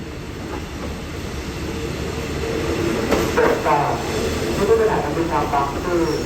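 A two-car Sprinter diesel railcar train pulls in at Bang Sue junction platform, a steady rumble swelling as it nears, with wheel squeal and rail clatter.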